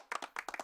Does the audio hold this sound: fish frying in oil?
no